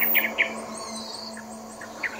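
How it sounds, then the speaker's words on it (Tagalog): Several birds chirp and call in short bursts over a steady insect drone at a quiet rural spot at night, with the calls scattered and moderately distant. "At ang dami ng huni ng ibon."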